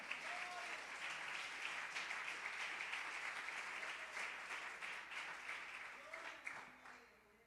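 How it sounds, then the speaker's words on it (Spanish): Congregation applauding at an Easter church service, a steady wash of many hands clapping that holds for several seconds and then thins out and fades, with no talking over it. "Den un aplauso al Señor."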